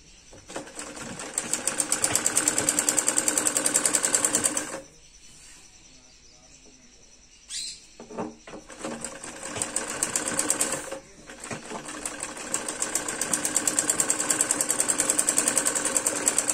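A sewing machine stitches salwar fabric in rapid, rattling runs, stopping for a few seconds midway, restarting briefly, then whirring steadily again up close.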